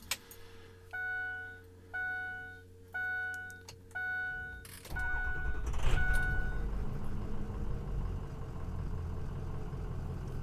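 Dashboard chimes beep in a steady rhythm on a 2004 Ford F250 with the 6.0 diesel, then the engine cranks and catches. It settles into a loud, rough idle close by.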